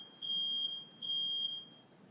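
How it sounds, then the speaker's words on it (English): Two long, high-pitched smoke alarm beeps, each lasting about half a second, sounding alone in a quiet room. "Now it's beeping more."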